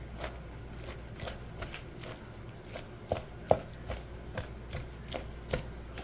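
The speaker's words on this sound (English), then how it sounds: "Once you cut them all up, just give them a little rough chop." A knife rough-chops diced shrimp on a cutting board in a steady series of close, crisp taps, each blade strike sounding clearly with no talking.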